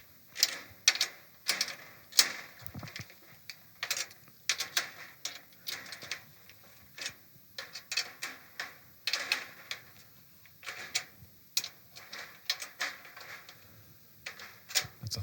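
Two drum keys turn the tension lugs on a 10-lug snare drum, giving a steady run of small, close metallic clicks and ratchets in a quiet room.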